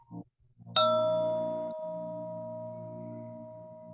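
A single chime is struck once and rings out with a clear, sustained tone that decays slowly over several seconds, preceded by a couple of soft taps.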